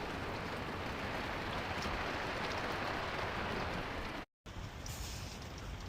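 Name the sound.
rain on the roof heard from the attic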